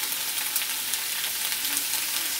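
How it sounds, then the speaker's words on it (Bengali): Spring onion stalks fry in a pan, seasoned with salt and turmeric, giving a steady, dense sizzle throughout with faint stirring scrapes and no talk. "পেঁয়াজকালিটাকে ভাজার সময় এর মধ্যে আমি একটু লবণ দিয়ে দিলাম"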